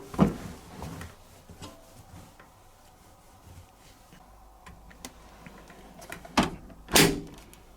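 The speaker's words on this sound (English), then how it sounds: "Right, drawer, pull open." A small detergent drawer on a Hoover H-Wash 300 Lite 10kg washing machine slides open with a couple of sharp plastic clacks near the end, after quieter scrapes and ticks, close up with no talking.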